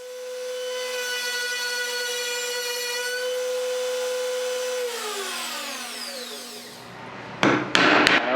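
A power tool's steady whine winds down and fades, then several sharp, loud strikes of a chisel close out the work on the corners of wooden cabinet shelves.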